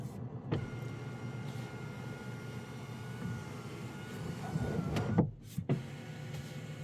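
Sunroof on a 2024 Volvo S60 T8 Recharge sliding back, a faint low electric motor hum inside the quiet car cabin with a few soft clicks and thumps near the end.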